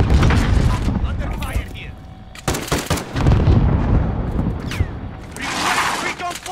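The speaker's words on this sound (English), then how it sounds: "They're shooting from the left" Heavy gunfire and booming blasts from enemies in Call of Duty Warzone hammer away in loud, irregular bursts through a dense battle din, with players talking over the chaos.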